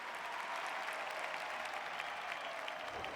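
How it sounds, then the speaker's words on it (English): A dense crowd roars and applauds at an AFL match in the AFL 26 video game, a loud, steady wash of cheering that holds for the whole stretch without a break. "The crowd noise tells you all you need to know."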